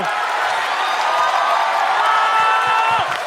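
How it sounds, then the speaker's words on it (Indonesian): A stand-up comedy audience applauds and cheers loudly after a comedian's set, a continuous wash of clapping with whoops. A host's voice is heard over it. "Beri tepuk tangan sekali lagi untuk Ratanca"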